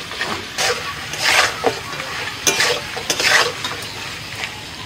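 Mutton rogan josh is stirred with spices in a hot pan. Scraping strokes of the spoon come in uneven bursts over a low sizzle, close and fairly loud.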